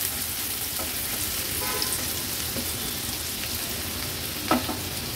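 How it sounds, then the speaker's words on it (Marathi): Chopped onion and green chillies sautéing in hot oil for an Agri-Koli style baby shrimp thali: steady close sizzle and frying hiss throughout, with a brief stir clatter near the end, no talking. "कांदा थोडा तेलावर परतून घ्यायचा आपल्याला"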